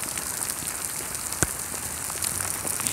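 Hail falling in a park during a storm, a steady dense patter of stones on the ground and surfaces, with one sharper close impact partway through and no talking.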